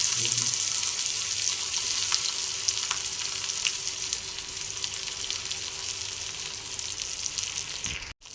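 Ridge gourd peel sizzling in hot oil with salt, a steady close hiss of frying that holds evenly throughout before cutting off abruptly at the end.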